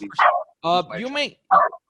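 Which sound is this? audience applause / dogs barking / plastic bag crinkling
dogs barking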